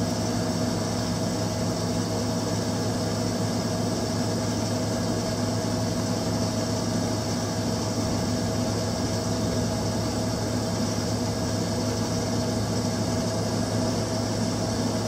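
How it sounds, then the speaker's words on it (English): A rotary broach spins against a part on a lathe and pushes into a drilled hole, giving a steady, unbroken machine hum with constant tonal whine and no pauses, loud and even throughout. "you'll watch this rotary broach, once it touches the part it'll start to spin, and it's literally going to push itself into that drilled hole that we created"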